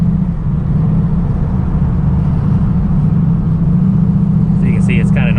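Interior of a 1000 wheel-horsepower turbocharged Pontiac G8 at normal street speed on a cold road, a steady loud low engine drone and road rumble throughout, with someone talking over it.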